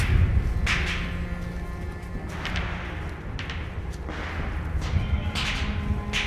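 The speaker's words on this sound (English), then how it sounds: "The sound of gunfire serves as a stark reminder" Sharp gunshots crack at irregular intervals during U.S. Navy SERE School training, five or six reports over a rumbling outdoor background, moderately distant.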